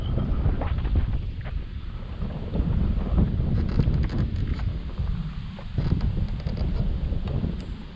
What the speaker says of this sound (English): Wind is tough.